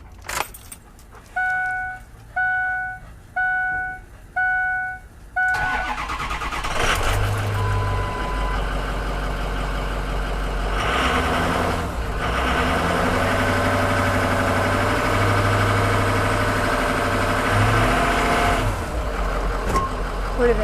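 A 2006 Ford E350 cargo van's 6.0 liter turbo diesel is started after a run of dashboard warning chimes, then settles into a steady, loud, close diesel idle with a low rumble.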